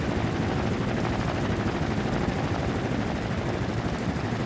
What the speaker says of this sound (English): this is technically the first helicopter I've made